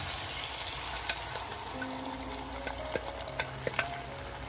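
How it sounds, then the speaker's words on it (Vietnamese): Egg and potato mixture for a Spanish tortilla pours into a hot oiled pan, giving a steady soft sizzle with small crackles and pops, close and fairly quiet, no voices. "bây giờ thì mình sẽ đổ hỗn hợp vào nha các bạn"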